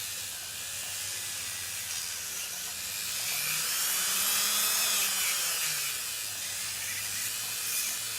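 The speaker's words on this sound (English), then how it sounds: "we're gonna go back with this drill bit." A high-pitched electric nail drill whines steadily while shaping nails, close and fairly faint, with its pitch dipping and rising briefly midway.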